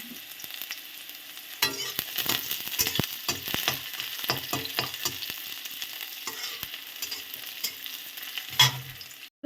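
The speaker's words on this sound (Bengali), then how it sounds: "এই যে পেঁয়াজ, রসুন, লঙ্কা, শুকনো লঙ্কা সব ভাজা হয়ে গেছে" Chopped onion, whole garlic cloves and dried red chilies fry in oil in a pan, a low steady sizzle with bursts of spatula scraping and tapping as they are stirred, close and moderately quiet; no talking.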